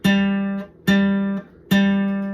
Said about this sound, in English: I'm going to pluck this string here in the middle,